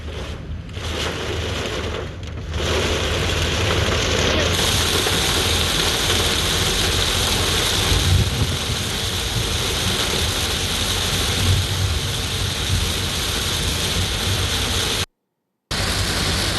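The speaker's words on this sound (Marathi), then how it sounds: "ठाण्यात तसंच उपनगरांमध्ये पहाटेपासूनच पावसाला सुरुवात झाली आहे" Dawn rain over Mumbai and its suburbs: a loud, steady wash of broadband hiss that holds evenly throughout, with a faint low rumble beneath and a brief dropout near the end.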